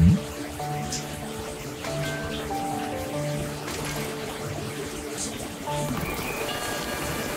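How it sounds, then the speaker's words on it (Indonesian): Heavy rain hisses steadily outside as a dense, even wash, with faint tonal game music and a few light clicks over it and no speech. "Hujan lebat sekali."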